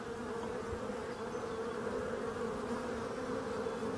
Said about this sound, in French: les frelons restent à l'extérieur. Alors évidemment ils arrivent à attraper les abeilles